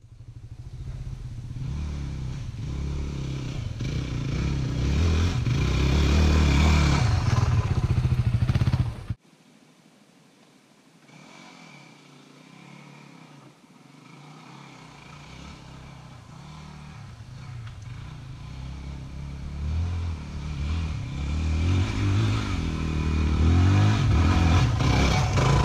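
Dirt motorcycle on its stock tire climbing a trail hill, engine loud and close, dropping off briefly near the middle before building back up to a strong steady drone.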